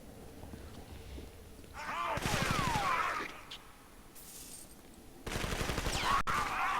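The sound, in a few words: dual pistol gunfire in video game Hellgate Global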